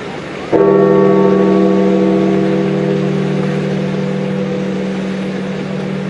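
A single large church bell strikes once, tolling for the death of Pope Francis, then its deep ringing hum sustains and slowly decays over several seconds, loud and close.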